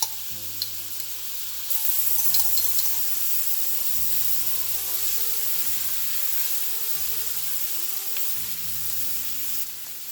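Butter and minced garlic fry in a hot skillet with a continuous close sizzle, while a low steady tonal hum runs beneath and occasional stirring scrapes cut in; nobody speaks.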